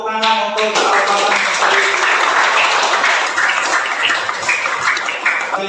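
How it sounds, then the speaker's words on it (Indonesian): Students in a classroom clapping together in a burst of lively applause, dense and close, with some voices mixed in throughout. "Ya, tepuk tangan untuk Al-Quran."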